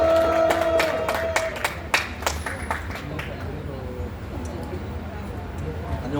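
Rally crowd in Yeouido, Seoul, clapping in a burst of scattered applause that thins out and fades into murmuring chatter and outdoor background noise.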